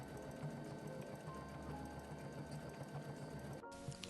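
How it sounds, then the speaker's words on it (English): Sewing machine running steadily, stitching fabric with an overcast stitch for a tank top, a continuous close mechanical whir with rapid needle rhythm, briefly changing near the end. "we're going to take it to our sewing machine and we're just going to stitch along all of those lines"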